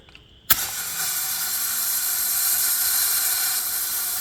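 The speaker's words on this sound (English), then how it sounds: "Plug in some compressed air." Compressed air is fed through an air fitting into a Ford 460 V8 engine, starting with a sharp pop and then settling into a steady, loud, close hiss that continues without a break.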